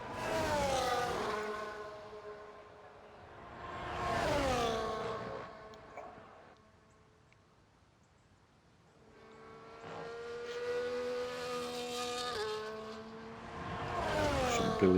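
A McLaren race car screams through the Australia circuit in a racing game, the engine climbing and falling through gear shifts, fading to a quiet lull mid-way before revving back up to a high whine.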